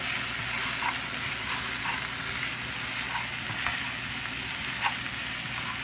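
Onion cumin fried rice frying in a pan, a dense continuous sizzle heard close and fairly loud, with faint occasional scrapes of stirring and no talk.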